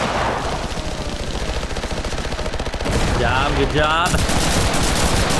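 Rapid machine-gun cover fire rattles through a Cuisine Royale firefight, a dense continuous burst that swells louder partway through, with a voice speaking briefly over the shooting.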